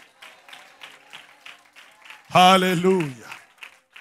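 A worship congregation claps hands in a steady rhythmic beat beneath a preacher's voice, with one loud sung exclamation rising over the clapping midway.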